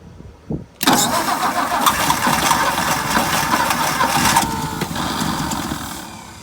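A 1963 Ford F100 pickup, unstarted for years, cranks briefly and then catches, its engine bursting loudly to life and running rough and revving close by before settling lower toward idle.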